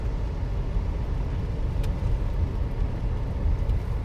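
A car rolls along a city road with bike lanes between Phoenix and Tempe, a steady broadband road and engine rumble heard from inside, with no talk.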